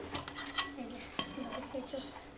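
A spoon scrapes and clinks against a metal tiffin box while food is scooped into a bowl, giving a few quiet, close taps and a sharper knock midway.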